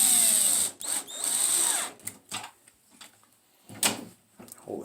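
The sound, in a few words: power drill tightening screws on door hardware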